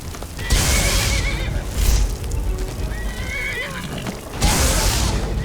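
A horse whinnies loudly twice in Skyrim: Special Edition, with clip-clopping hooves and scattered game-like mechanical sounds between the calls.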